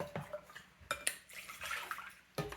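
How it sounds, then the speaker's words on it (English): Dates being rinsed by hand in water in a small pot in a home kitchen, with soft splashing and trickling broken by a few sharper clinks against the pot, close and fairly quiet, with no talk. "The next thing I'll be doing here is to wash my dates"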